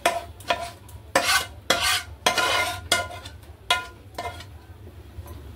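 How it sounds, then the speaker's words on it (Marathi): A spiced masala for Bakri Eid mutton rassa is tipped into a pressure cooker and stirred, heard as repeated loud scraping, clanking bursts about half a second to a second apart, close up with no talking. "तर हा मसाला आपण इकडे आता टाकून घेऊया कुकरमध्ये।"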